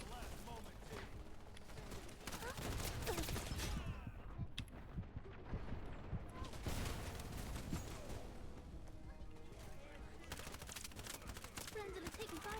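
Dense gunfire and explosive bursts from a multiplayer shooter game, Wild Assault, rattle almost continuously at close range and loud, with game voice callouts mixed in over the shooting.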